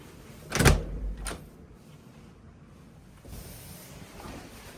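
Hotel room door opening and closing, heard as a sharp knock-like thud followed by a second quieter click about half a second later, then a soft rustle and faint room noise.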